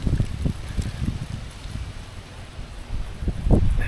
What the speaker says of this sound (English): The wind has been going crazy for the last 2 days.